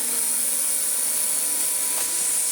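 A Vax Power Nano vacuum cleaner runs during a suction test, giving a steady, close, high-pitched motor whine with airy rushing noise that holds unchanged from start to finish.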